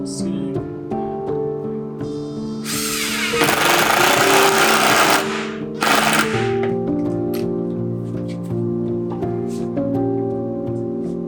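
Scraping through kitchen cabinet material during a kitchen renovation, heard as loud harsh grinding bursts between tonal background sounds, close and fairly steady for a few seconds at a time.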